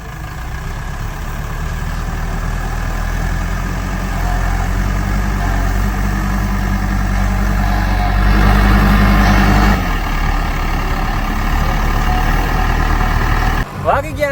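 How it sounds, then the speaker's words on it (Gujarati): A JCB excavator's diesel engine runs steadily nearby at a low, rumbling idle, swelling slightly in the middle before settling, with a person talking over it and a brief clatter at the end. "હજી ભાઈ જીસીબી હાલે છે"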